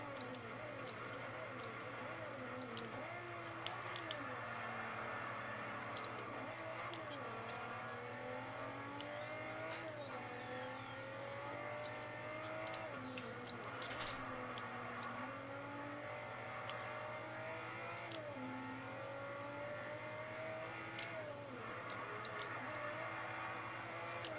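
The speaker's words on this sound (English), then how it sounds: "let you guys just hear the engine note" An Aston Martin DBS sports car engine in Forza 4 drones and rises through the gears, its pitch climbing and dropping repeatedly over a constant low hum, with no talking.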